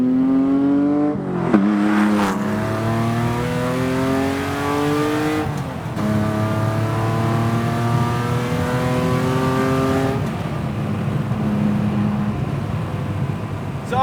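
A 1988 Porsche 911 3.2 in RWB widebody form accelerating hard through several gears, its flat-six rising in pitch, dropping at each shift and climbing again, loud and close with no talk.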